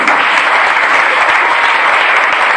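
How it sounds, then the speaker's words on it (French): A church congregation breaks into steady, dense applause, a continuous wash of clapping hands filling the room without pause. "J'ai demandé que vous acclamez."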